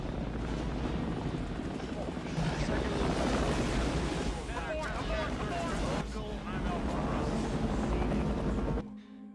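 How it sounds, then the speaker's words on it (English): Helicopter rotors thrum continuously as the choppers hover over a plane, beneath dense, loud action-scene noise, with voices and wind-like roar mixed in. "his choppers hover over the wrong plane"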